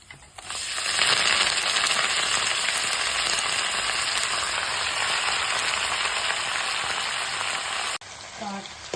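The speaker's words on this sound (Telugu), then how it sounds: "ఇప్పుడు ఏగిన తాలింపులో మనం తోటకూర వేసుకుందాం" Amaranth leaves (thotakura) dropped into hot oil tempering set off a loud, steady frying sizzle that stays dense and continuous for several seconds before easing slightly near the end.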